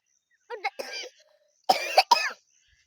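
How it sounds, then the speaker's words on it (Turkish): Two bursts of harsh coughing, close by, separated by a short pause, with no talk around them. "Sen niye öksürüyorsun?"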